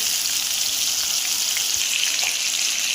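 Three normal-sized onions frying in a pan, early in making a chicken white karahi, give a dense and even hiss of sizzling oil. It stays close and steady throughout, with faint stirring ticks.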